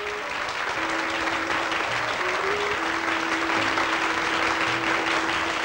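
Steady applause from a theater audience for a fashion model in a 1958 Czechoslovak film, continuous clapping throughout with a faint sustained musical tone underneath.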